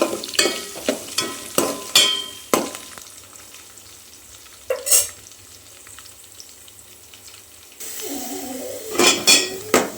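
Semiya upma ingredients frying in a pan on a home kitchen stove give a low crackle, broken by sharp clinks and scrapes of stirring, with a brief hiss near the end.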